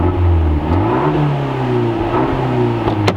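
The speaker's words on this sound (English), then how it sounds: "Nice sounding engine. You have a little bit of that turbo whine too." A 2017 Fiat 124 Spider Elaborazione Abarth turbo engine with a six-speed manual revs up and settles in a loud, steady drone with rising harmonics, a faint turbo whine riding above it, no talking.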